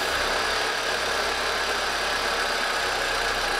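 An old car engine runs steadily while extra fuel is fed to it, giving a continuous loud, even idle with a rough knocking edge and no talk.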